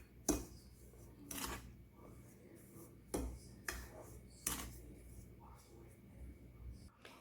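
Cocoa powder, baking powder and salt are stirred together in a bowl, giving faint scattered taps and scrapes with a few sharper clinks in an irregular rhythm, mostly quiet.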